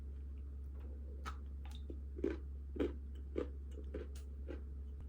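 Someone bites into a chocolate crumble pastry and chews, giving a few soft crunchy bites and quiet mouth sounds, close and fairly faint over a steady low hum.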